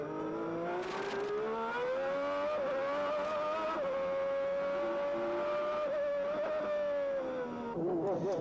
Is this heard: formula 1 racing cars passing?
yes